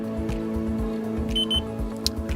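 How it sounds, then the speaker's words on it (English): Motorcycle tire pressure monitor giving a pair of short, high electronic beeps as a sensor registers, over a steady hum with a rhythmic low thumping pulse in the background. "Screw the sensor onto the valve and the monitor will beep."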